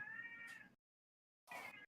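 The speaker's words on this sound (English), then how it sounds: "my cat is very angry, everyone" An angry cat gives two loud, close meows, the first long and sustained, the second shorter after a silent pause, with no voices present.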